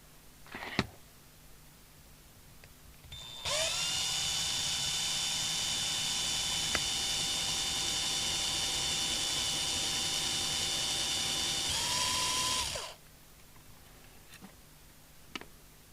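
A small drill bores 2.5mm holes for nut-and-bolt fixing on a workbench, a steady high whine running about nine seconds before winding down, with faint clicks before and after.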